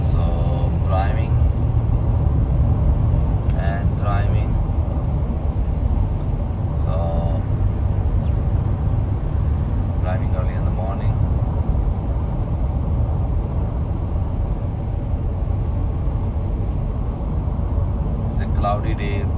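A car towing a small trailer drives steadily on an early morning road, giving a continuous low rumble of engine and road noise throughout, with a few brief higher rattles and clicks.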